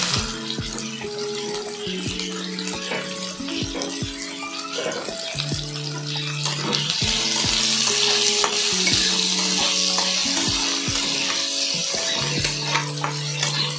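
Boiled potato and taro chunks frying in oil with whole cumin and a bay leaf, a steady close sizzle broken by the scrape and clatter of a spoon stirring the pan, with a tap briefly running.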